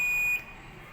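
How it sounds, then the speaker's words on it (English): A bird-detection alarm on a smart irrigation system gives one steady, high electronic beep that cuts off after about half a second, leaving a low background hum. "When the bird or animals enters the farm, the alarm starts to scare them away."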